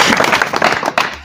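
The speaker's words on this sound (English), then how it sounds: "We clap for them as they come." Students arriving at a Kenyan high school scholarship gathering are welcomed with hand clapping, a brief, close burst of uneven claps from a small group with a voice mixed in.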